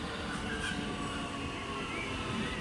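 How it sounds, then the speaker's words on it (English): A Melbourne X'Trapolis electric train arrives at Mont Albert station with a steady, fairly loud rumble and faint wheel and motor whine throughout. "We've got an X-trapolis arriving."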